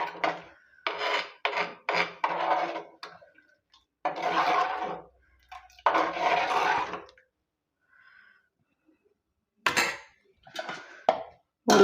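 Tamarind water poured into a village-style kola fish curry and stirred in a pan, giving close bursts of splashing, scraping and rasping with short pauses between them.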